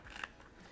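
A single quick, faint scissor snip cuts a square of glitter iron-on vinyl, close by and alone.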